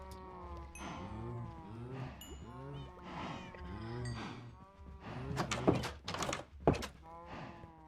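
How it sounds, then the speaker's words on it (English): Cows in the video game Minecraft moo loudly and close by, several drawn-out calls following one another, with a few sharper thuds and clatters toward the end. "you can hear the cows really loud from here"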